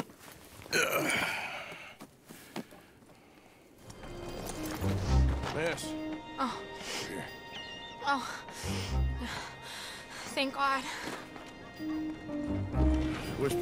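Horse hooves in Red Dead Redemption 2 thud along in an irregular rhythm beneath people talking, with some breathy vocal sounds mixed in.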